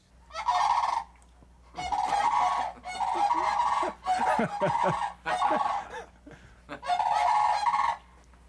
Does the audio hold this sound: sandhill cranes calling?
yes